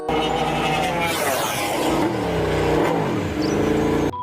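A toy racing motorcycle plays a loud electronic engine effect: a continuous revving whine that climbs and falls for about four seconds, close and alone, before it cuts off abruptly.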